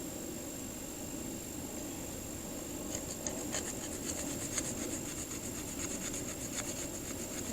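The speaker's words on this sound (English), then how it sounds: "I'm using the back of the knife now to make Maya dust." Back of a knife scraping a piece of fatwood at a foggy pond campsite to make fine resinous dust, a faint rhythmic rasping that starts partway through over steady low outdoor ambience.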